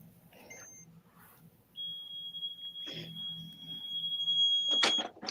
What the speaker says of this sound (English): Yeah, that's my press beeping and carrying on.